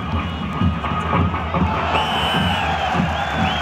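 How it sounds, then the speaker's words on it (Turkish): A crowd cheers and claps at a Turkish oil wrestling tournament, the Kurtdereli Mehmet Pehlivan Yağlı Güreşleri, a loud continuous roar of voices and whoops from a large outdoor gathering. "Coşkuyla alkışlıyoruz."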